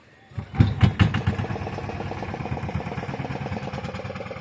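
A boat motor starting up on a river ferry crossing where the Godavari meets the Krishna, sputtering loudly at first and then settling into a steady, close, rhythmic idle.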